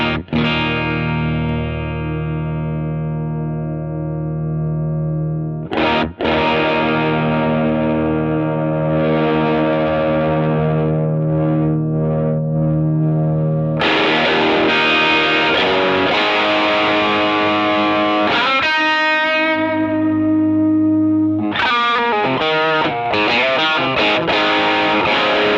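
Electric guitar driven through a Klon overdrive pedal, sustained distorted chords ringing out loud and thick, shifting in tone and gain between settings with sharp restrikes about every few seconds, no talking.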